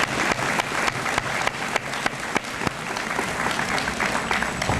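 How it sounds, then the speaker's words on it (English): Students get a round of applause at a high school honors assembly, dense clapping from a large audience filling a hall, loud and continuous throughout. "So let's give these students a nice round of applause."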